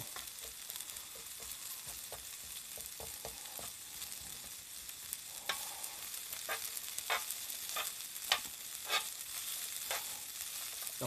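Shrimp pilaf from a supermarket frying in butter in a pan, a continuous soft sizzle with repeated scraping and stirring taps of a utensil against the pan, no voices.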